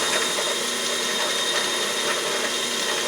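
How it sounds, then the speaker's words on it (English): A drill press spinning a hone inside an oiled bore while building a Stirling engine, a steady dense whirring and grinding hum that stays even and continuous throughout. "This is how I go about honing."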